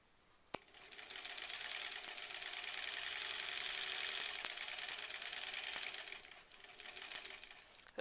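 A sewing machine stitches quilt pieces together in one long continuous run, a close, fast mechanical whir that starts abruptly, holds steady for several seconds, then slows and stops.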